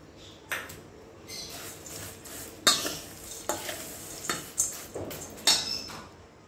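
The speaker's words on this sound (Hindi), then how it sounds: "अभी पूरा नमकीन हमने मिक्स कर दिया है" Namkeen and chivda being stirred together in a bowl: a run of close scraping, rustling strokes with several bright metallic clinks, and no voices.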